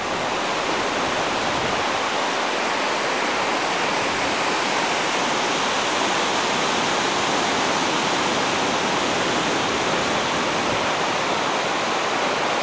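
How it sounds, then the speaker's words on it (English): Water pours from a reservoir filled to capacity after heavy rain, a loud, unbroken roaring rush of flow heard up close with no voices. "And this is the reservoir at full flow."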